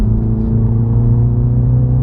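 Mini JCW petrol engine pulling hard while held in one gear during a night drive uphill, a loud, steady low rumble and whir from inside the cabin with no talk.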